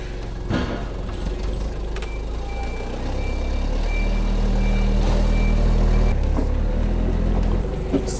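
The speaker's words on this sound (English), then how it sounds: "Now Ziggy moving the car away" A Ford Fiesta with a freshly swapped EcoBoost engine is moved away in a workshop, a steady low engine drone building slightly with a faint repeating beep, no talk.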